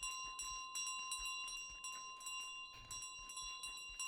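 A small bell jingles repeatedly in Untitled Goose Game, bright, quick ringing bursts in an uneven rhythm over a steady soft game tone, fairly faint and with no talk.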